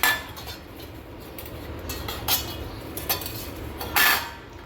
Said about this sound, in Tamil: இந்த காய் துருவுறதில் வச்சு இந்த உருளைக்கிழங்கை துருவி எடுத்துக்கலாம்